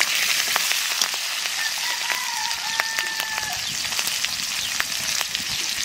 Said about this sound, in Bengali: তেলের মধ্যে দিয়ে দেবো কালো জিরে